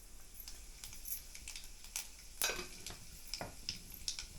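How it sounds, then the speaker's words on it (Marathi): Cumin and mustard seeds go into a pan for a Marathi alu leaf dish, with metallic scrapes and clinks of a spoon stirring against the pan over a faint sizzle, close and irregular. "आता जिरा मोहरी टाकते एकत्र करून"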